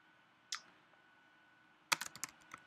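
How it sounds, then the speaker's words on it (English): Someone types a search on a computer keyboard: one isolated key click, then a quick burst of several close, crisp keystrokes against a quiet room. "I'm going to type in"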